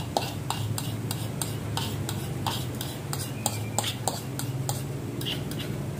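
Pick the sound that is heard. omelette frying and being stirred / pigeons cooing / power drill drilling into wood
omelette frying and being stirred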